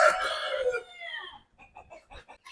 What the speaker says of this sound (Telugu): ఈ పుంజు గురించి చెప్పండి.